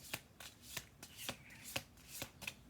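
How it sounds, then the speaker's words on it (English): A deck of cards being shuffled through by hand in a quiet room, each riffle a short crisp burst, repeating about every half second. "2 more shuffle throughs, and then I'm gonna pull from the bottom and the top"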